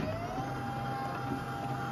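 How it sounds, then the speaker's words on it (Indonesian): A printer runs steadily while printing a Shopee shipping label, giving a continuous even mechanical whir with a faint tone, close and alone. "Kita coba print."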